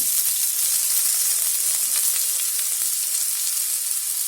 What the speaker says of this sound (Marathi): असं 1-1 मिनिटांनी हलवलं ना तर कांदा कसा माहितीये असं चांगला भाजून निघतो.